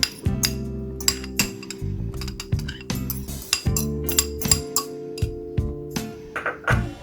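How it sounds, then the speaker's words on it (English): A spoon stirs potato and egg breakfast ingredients in a bowl, with rapid repeated metallic clinks and scrapes in an uneven rhythm, close and fairly loud, with no talk. "Mix it well."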